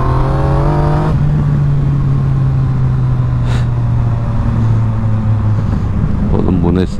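A Yamaha MT-09 motorcycle engine revs loudly and close, a deep throbbing drone that rises and sags in pitch over several seconds, with brief voices mixed in.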